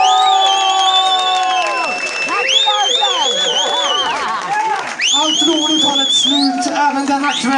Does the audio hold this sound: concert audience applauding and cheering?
yes